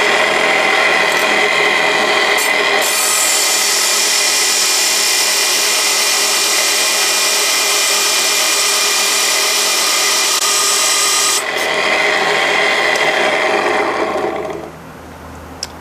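A stone cabochon's ends are trimmed on a cutting wheel, a loud, close, steady grinding whine that holds for about eight seconds before dropping away to a quieter spin-down.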